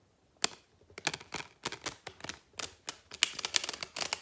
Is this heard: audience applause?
no